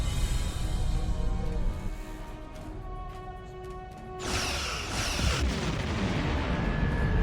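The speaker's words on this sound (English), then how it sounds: "Target that ship, and fire all weapons!" Starship weapons fire against an Undine planet killer in the video game Star Trek Online: a dense, sustained barrage of heavy booming blasts and crackling bursts, loud and continuous, with no talking.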